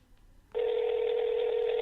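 A steady electronic telephone tone begins about half a second in and holds loud and unbroken, like a call ringing out unanswered toward voicemail during a scam-baiting call, with no voices over it.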